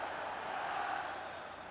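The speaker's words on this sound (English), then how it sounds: "Crowd singing the song." Faint, distant crowd singing in a stadium during an FC 25 football match, a steady sustained chant with no break, low in the mix.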